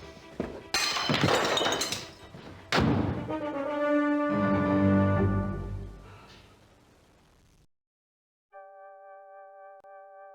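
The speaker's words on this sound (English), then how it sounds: "A smashed plate." A plate smashes in the 1997 Cluedo PC game, with a couple of sharp crashes and then a long ringing shatter of pieces that fades to silence before a soft synth tone enters.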